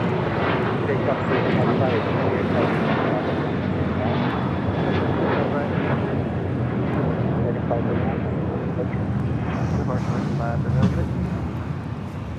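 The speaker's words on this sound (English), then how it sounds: "This is American Airlines 539, taking off to Austin" An American Airlines jet takes off at LAX, its engines roaring loud and steady with a constant broadband rumble, while people talk over it throughout.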